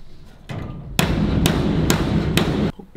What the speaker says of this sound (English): let's beat it with a big hammer